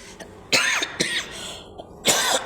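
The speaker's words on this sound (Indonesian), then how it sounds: "Ini batuknya kuat." Several harsh, forceful coughs come in separate bursts, close and loud, with short quiet gaps between them.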